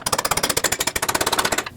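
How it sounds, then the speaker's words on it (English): A hammer drives a punch against a front lower control arm bolt on a 2006–2015 Lexus IS250. Dozens of rapid, evenly spaced metallic blows come close and loud, in a steady fast rhythm with no talk. "Use a punch and a hammer and drive this out the rest of the way."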